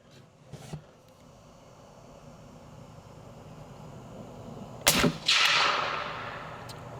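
A 30-30 rifle fired outdoors at a turkey target: a faint sharp crack early on, then a loud close shot near the end followed by a long rolling echo, with no voices.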